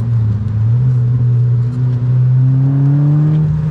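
A car heard from inside while driving at night on a road with truck traffic, its engine droning steadily and rising in pitch as it accelerates, loud and continuous with no talk.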